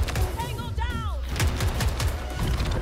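Gunfire from a shotgun in the Battlefield 2042 specialists trailer, loud percussive blasts repeating through a dense, noisy game mix, with a brief whistling tone early on and a voice speaking faintly underneath.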